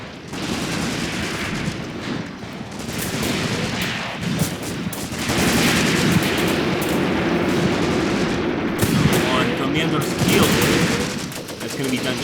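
Artillery bombardment in the wartime tactics game Graviteam Tactics: Mius Front, a dense, continuous roar of shell bursts and rattling gunfire that stays loud throughout, with a voice talking over it.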